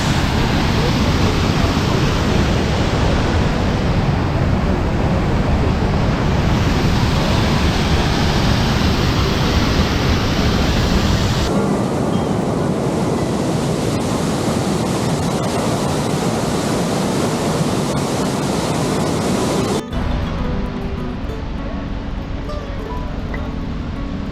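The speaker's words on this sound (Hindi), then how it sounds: "क्या झरना आ रहा है, वाह।" Loud, steady roar of a waterfall on the Manimahesh Kailash pilgrimage trek in the Himalayas pours continuously, the rushing water dense and close, shifting slightly in tone as the listener moves.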